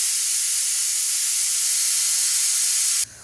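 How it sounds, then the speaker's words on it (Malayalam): A pressure cooker on a stove lets off one loud, steady steam whistle while tomato curry cooks, a continuous bright hiss that runs unbroken for about three seconds and then cuts off sharply, leaving a faint low residual noise. "കുക്കർ നമ്മുടെ വിസിലടിക്കാറായിട്ടുണ്ട്."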